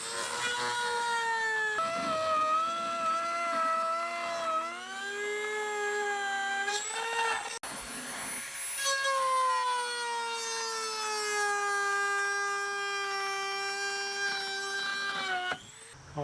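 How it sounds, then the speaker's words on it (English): A Dremel rotary tool cutting through material, a close, loud, high whine held steadily, its pitch dipping and rising as the load changes, with a brief break midway and no talk. "We're going to try to use a Dremel tool to cut this thing out."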